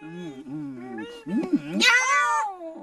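A cat meows in a long, drawn-out wail that rises into a loud, strained caterwaul near the end, sounding close and alone.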